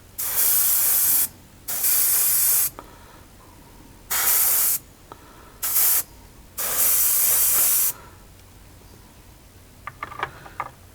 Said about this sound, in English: I'm just going to primer it white. Just light coats.